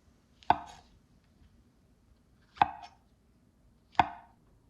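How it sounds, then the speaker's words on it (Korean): Button mushrooms are sliced with a knife on a cutting board, giving three separate crisp chops spaced a second or two apart in a quiet kitchen. "양송이 버섯을 썰어주세요."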